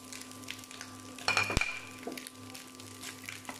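Green chili and chopped onion drop into hot oil in a pan, giving a brief burst of sizzle and a metal clink before the frying settles to a steady low hiss, with no talking.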